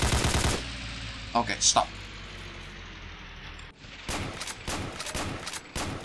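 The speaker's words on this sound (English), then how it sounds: "I just spent, I think, the entirety of the ammo on the jeep's machine gun for shooting that guy." A jeep-mounted machine gun fires in a World War II Pacific landing battle game at Tarakan, with a dense burst of rapid automatic fire at the start, brief shots mid-way, then renewed bursts and a short spoken word.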